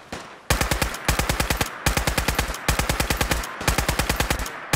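Rapid automatic weapon fire from Fallout 4, loud close bursts of evenly spaced shots separated by short pauses, with no talk.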